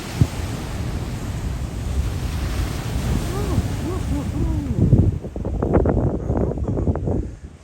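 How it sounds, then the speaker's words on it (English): Atlantic Ocean waves roll in and break on the shore at Eko Atlantic City, a loud rushing wash with wind buffeting the microphone and the surge building toward the end. "The waves is coming again."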